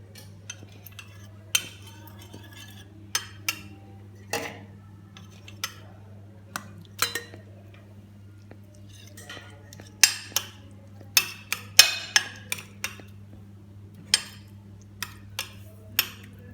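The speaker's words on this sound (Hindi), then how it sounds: "इनको अच्छी तरह से पहले दही में मिक्स कर लेते हैं।" Dry spices being stirred into yogurt for a chicken marinade, a spoon clinking and tapping against the bowl in sparse, irregular strokes, close and quiet over a low steady hum, with brief speech between strokes.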